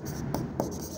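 A pen or chalk makes two quick scratching strokes during an accounting lesson on company liquidation, close and fairly quiet.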